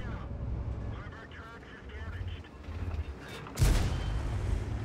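A Caernarvon tank in World of Tanks fires a single loud, booming shot near the end, heard over a game rumble and a commentator's voice.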